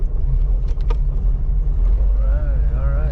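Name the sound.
1985 Oldsmobile Cutlass engine driving with new carburetor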